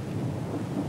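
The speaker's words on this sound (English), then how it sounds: "here comes the storm" A low, steady rumble of thunder from an approaching storm rolls briefly, deep and muffled, with no other sounds.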